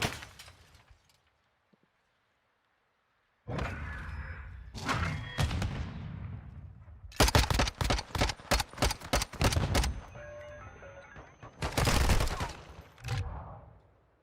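Gunfire in the video game Call of Duty: after a quiet opening, several loud, sharp bursts of rapid shots arrive in quick clusters, separated by brief pauses.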